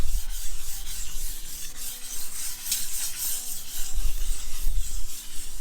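Steady rasping of sandpaper rubbed back and forth to round the edge of a terrazzo tabletop, close up, with a rhythmic stroke pattern and no talking.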